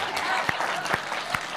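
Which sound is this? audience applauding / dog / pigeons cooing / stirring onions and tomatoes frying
audience applauding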